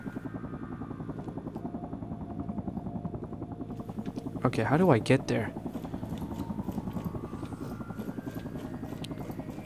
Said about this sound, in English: I don't like the idea of a helicopter